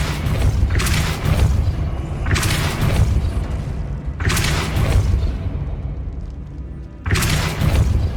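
Spell blasts from the Depulso force-push charm in Hogwarts Legacy, four loud booming bursts at uneven intervals, each a broad thump with a short decaying rush.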